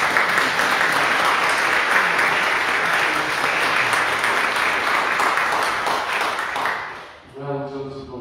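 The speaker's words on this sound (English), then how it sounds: "So I think they deserve a round of applause" A church congregation applauds during a Palm Sunday parish Eucharist, steady dense clapping sustained for several seconds before fading out as a voice begins speaking.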